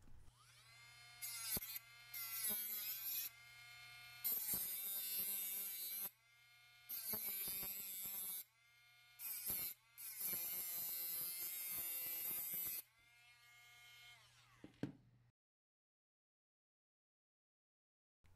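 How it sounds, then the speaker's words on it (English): A Dremel rotary tool rounds the edges of a copper heatsink, giving a high whining buzz in repeated bursts of a second or two with short pauses, steady mains hum underneath, then sudden silence. "I'm going to grab my Dremel tool. I'm going to round the edges off and just clean it up real good."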